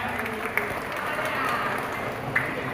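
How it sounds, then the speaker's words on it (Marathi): A crowd claps at a Dahi Handi festival as a four-tier human pyramid stands, a dense wash of applause mixed with background voices. "जोरदार टाळ्या"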